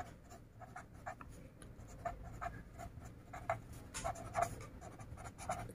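A pen scratches out numbers for a math problem on paper, quiet, close, rapid short strokes in an uneven rhythm with no voices.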